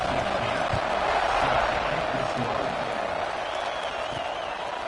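A large football stadium crowd roars steadily just before the kickoff, a dense, continuous wash of cheering that holds at full volume throughout.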